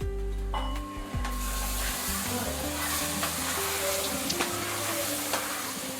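Chutney being poured into hot oil in a pan, giving a continuous loud sizzle and hiss with a few sharp clinks, no talking.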